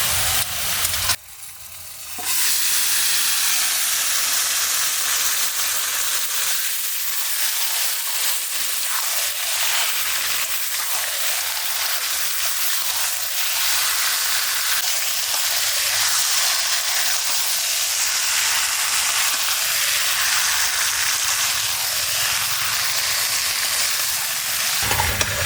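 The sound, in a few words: marinated duck meat sizzling in hot oil with fried onions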